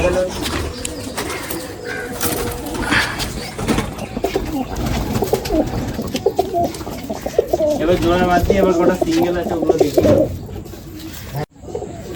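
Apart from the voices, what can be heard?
desi pigeons cooing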